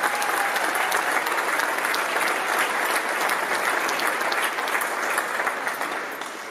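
Applause for Hall of Fame inductees at a college athletics induction ceremony, a large audience clapping in a thick, continuous wash that holds steady before easing slightly at the end.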